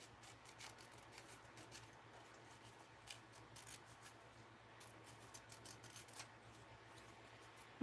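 Scissors fussy cutting paper, a quiet run of small snips and rubbing slices at an irregular pace, close and faint.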